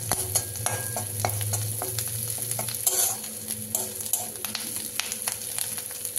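Onions fry and sizzle in a pan while a spoon scrapes and stirs them, a steady close crackle with irregular clinks and scrapes throughout.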